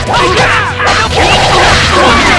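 Spell attack effect in Tales of Symphonia Remastered, a loud dense burst of swirling whooshes and magical crashes lasting a couple of seconds, with a voice over the effects.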